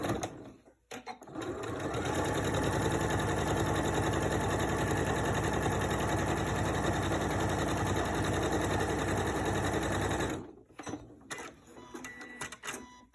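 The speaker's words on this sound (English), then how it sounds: "I take and roll down the top of each of my rectangles a 1/2 inch at a time and simply sew the top." A sewing machine stitches down a rolled half-inch hem along the top of fabric rectangles, running in one steady, close, continuous whir for about nine seconds before stopping.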